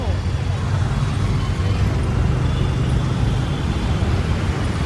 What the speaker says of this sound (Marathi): हे बघा ट्रॅफिक